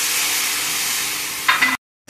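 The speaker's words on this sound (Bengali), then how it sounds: "এবার এখানে একটু গরম জল দিয়ে আমি আরেকটু ভালোভাবে কষিয়ে নেব।" Fish kabab masala with tomato and a splash of hot water sautéing in a pan, a steady broadband sizzle with stirring, a brief louder burst near the end before it cuts to silence.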